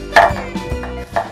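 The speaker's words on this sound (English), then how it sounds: "Slice them thinly." A knife slices thinly through burdock root on a cutting board, giving a few separate crisp board taps spaced irregularly, close and fairly clean with no talk.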